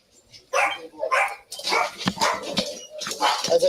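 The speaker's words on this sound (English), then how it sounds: "There's a dog in there." A dog barks and yips in short repeated bursts from inside a house, fairly close and loud, with occasional whimpering between the barks.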